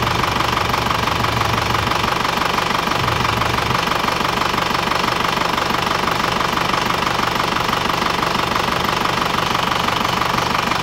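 An Isuzu Panther diesel engine idles with blow-by, a steady loud knocking clatter with continuous mechanical rumble throughout, close and alone without talk.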